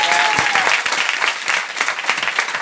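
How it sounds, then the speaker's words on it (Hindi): An audience at a motivational business seminar bursts into loud, dense clapping that continues strongly throughout, with individual sharp claps popping out of the steady roar. "एक बार जोरदार ताली बजाइए।"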